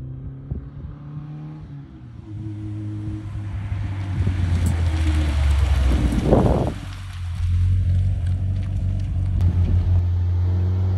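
A Lotus 11 replica sports car driving in wet conditions, a low steady engine drone with rising revs, gusty road and spray noise and one loud rushing burst midway.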